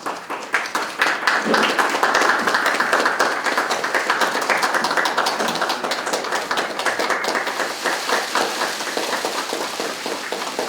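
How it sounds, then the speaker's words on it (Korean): A conference audience at a Democratic Party of Korea recruitment announcement welcomes a speaker with sustained applause. Dense clapping runs steadily for about ten seconds at full strength, then begins to thin slightly toward the end. No speech is heard over it. "박수로 맞이해 주시기 바랍니다"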